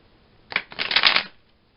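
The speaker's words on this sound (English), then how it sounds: "now I've got my Hermetic deck here, and I'm going to pull some cards" A Hermetic tarot deck being shuffled: a short riffle of cards lasting under a second, crisp and close in an otherwise quiet room.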